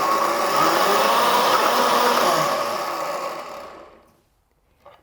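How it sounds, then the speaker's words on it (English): A countertop blender purees vegan Canary Island mojo sauce with torn gluten-free bread, running as a loud, steady whir for about three seconds before winding down to silence, followed by a small click. "And this is ready to blend up."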